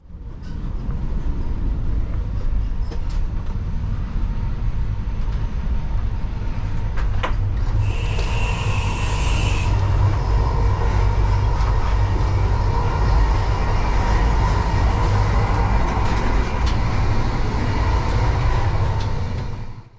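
Steady interior rumble of a CrossCountry HST, an ex-East Coast Main Line train, heard from inside a First Class passenger coach, with continuous low running noise, faint rail clatter and a brief higher whine partway through.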